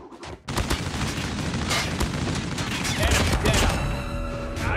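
Gunfire in the Call of Duty video game, dense rapid bursts of shots and booms after a brief quiet start, loud and continuous, with faint voices in the mix.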